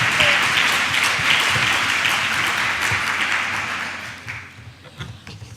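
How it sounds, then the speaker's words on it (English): Audience applause for a conference organizer at a science conference, a dense, steady round of clapping from a full room that fades out over the last second or so. "You can clap for Kiara, she deserves it"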